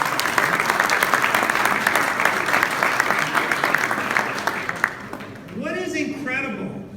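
Audience applause at a Los Angeles community celebration, a dense steady clapping that fills the room for about five seconds before fading, after which a speaker's voice comes in.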